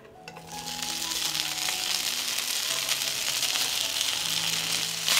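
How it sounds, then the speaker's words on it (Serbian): Bacon drops into heated oil in a frying pan, and a bright sizzle swells within the first second and then holds steady and close, with a faint hum beneath and no talking. "Na zagrejano ulje spuštam slaninu."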